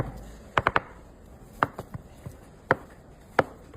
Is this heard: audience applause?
no